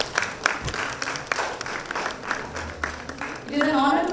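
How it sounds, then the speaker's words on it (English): Conference audience at a textile and apparel sustainability event clapping briefly after a session chair is introduced, a short burst of applause mixed with a speaking voice over a public address system. "May we have a round of applause for Mr."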